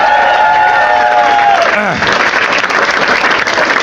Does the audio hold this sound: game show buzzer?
no